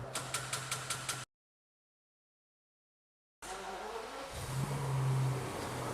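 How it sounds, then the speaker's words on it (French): A V12 engine, with the car audible through rapid rhythmic clicking, a sudden dropout to silence, then a rising mechanical whir as the engine turns over and settles into a deep, steady hum. "je te laisse mettre ce petit V12 en route, tu vas voir"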